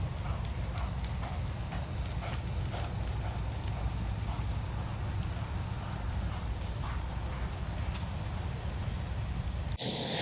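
Horse hooves clip-clop steadily under a rider in a rodeo setting, a dense rhythmic patter against a continuous rumbling background that ends abruptly.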